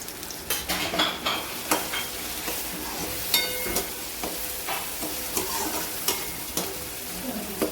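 Tomatoes sauté in a pan for capsicum bhaji, a constant sizzle under repeated sharp scrapes and clinks of a spoon stirring against the metal at an irregular, busy rhythm, close up and without talk.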